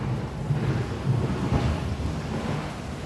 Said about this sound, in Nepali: लो पानी पर्यो फेरि।